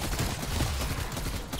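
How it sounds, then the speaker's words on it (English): Burst-fire gun in Call of Duty Cold War Zombies fired in rapid repeated bursts, dense and nearly continuous like full-auto fire, loud and steady throughout with no talking. "If I spam it, I can actually fire the burst pretty quick"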